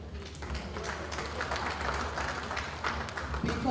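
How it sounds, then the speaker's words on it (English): Audience round of applause at a World Intellectual Property Day 2025 event, a continuous wash of many hands clapping at moderate volume with a voice faintly mixed underneath. "I think that deserves a round of applause."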